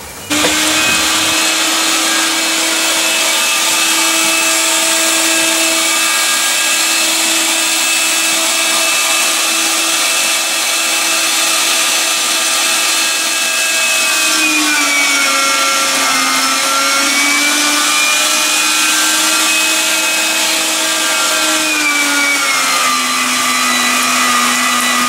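A meat grinder runs continuously at close range, whining loudly and steadily while grinding meat seasoned with paprika, garlic and salt for Landjäger sausage, its pitch sagging briefly under load partway through before recovering.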